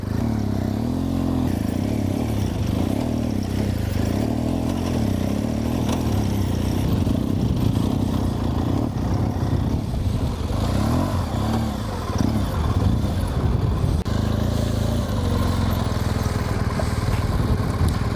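Motorcycle restarting on a hill, held near 2,000 RPM as throttle is rolled on and the clutch released, a steady close engine drone with slight uneven stumbles, rumbling continuously throughout.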